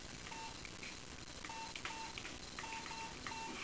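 Touch-tone telephone dialing a call, a quick run of short beeping tones at low level with no voices.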